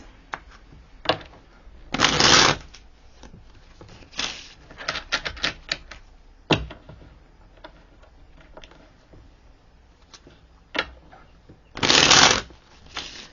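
A deck of tarot cards is shuffled close by, with rapid riffling bursts and shorter flicks and taps between them, spread across the stretch with brief quiet gaps.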